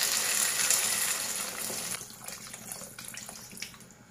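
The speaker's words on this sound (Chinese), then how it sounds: "倒入适量的清水" Water pours steadily into a pan of potatoes and carrots with onion, a loud continuous gushing splash that tapers off, heard close with no talk.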